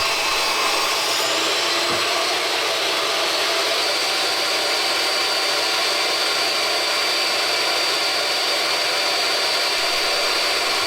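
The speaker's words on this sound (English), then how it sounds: "Here I'm taking each 2x10 and ripping about 3/4 of an inch off of each side" A power saw rips a 2x10 lumber board lengthwise, producing a continuous loud, close whine and hiss of cutting that holds steady without pauses for about eleven seconds.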